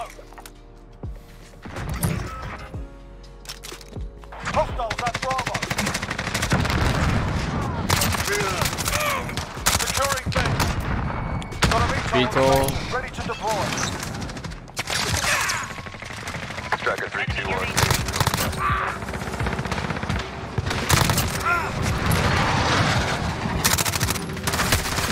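MP5 submachine gun fire in Call of Duty Modern Warfare: dense rapid bursts and overlapping shots with mechanical clicks and thuds, continuous and loud over most of the stretch, with voices talking under and between the gunfire.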